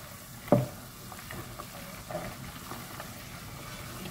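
Milk cream cooks down into ghee in a pan with drumstick leaves, stirred with a spoon that scrapes sharply once early on, then a soft bubbling sizzle with light scraping strokes continues.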